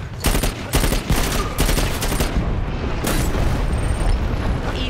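A thrown grenade explodes in the Dirty Bomb shooter game on the Bridge map, heard as loud, close booming blasts among rapid bursts of gunfire over a dense, roaring battle din.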